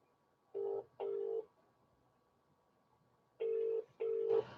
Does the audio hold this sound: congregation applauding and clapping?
no